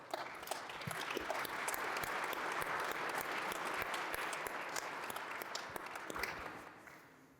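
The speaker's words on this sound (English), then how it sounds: "let's give Otska a big round of applause" Sustained audience applause after a speaker is introduced at a talk on psychedelics in veteran care, a dense even wash of many hands clapping that holds steady for several seconds and then fades toward the end.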